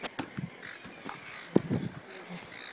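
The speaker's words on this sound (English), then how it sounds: "Shut up, seagulls." Seagulls call at Nobbies on Phillip Island, a few short harsh cries and squawks scattered among wind and outdoor noise, with people talking nearby.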